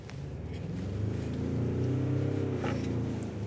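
A Ford Ranger Raptor's 213 bhp diesel engine revs in sports mode with an automatic gearbox, giving a steady low droning hum from inside the cabin that swells slightly and holds, fairly quiet and with no voices.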